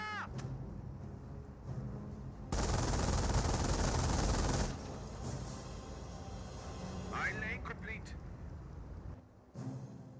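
A .30 cal machine gun firing in Company of Heroes, a dense loud burst of rapid gunfire for about two seconds amid battle noise, with someone talking over the game sounds before and after.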